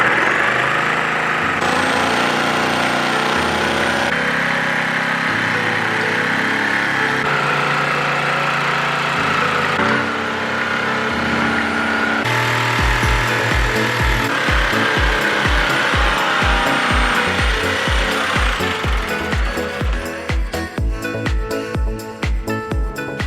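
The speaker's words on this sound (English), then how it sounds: "let's get the jigsaw out and see if we can get this cut out and not ruin it" A jigsaw cuts into a wooden worktop for a VW Transporter campervan build, its steady buzzing drone becoming sharper and rattling toward the end, loud and close with no talking.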